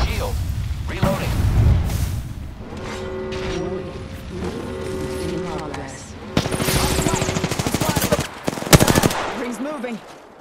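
Rapid automatic gunfire and explosions from an Apex Legends ranked match, with bursts of shots, a sustained stretch of firing, then heavier cracks and booms late on, loud and close amid game effects.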